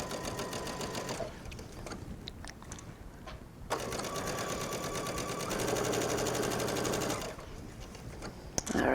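A sewing machine runs in bursts as it stitches a rolled edge around a silk chiffon sleeve, a steady close mechanical whir that pauses briefly and starts again, with no talking.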